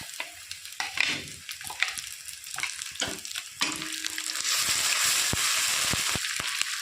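Ginger and chili paste added to onions already fried in a pan for an egg dish, with a spoon scraping and stirring in short strokes before a steady, close sizzle of frying takes over.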